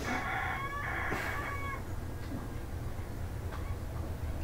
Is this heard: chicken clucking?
yes